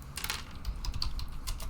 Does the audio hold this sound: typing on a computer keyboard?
yes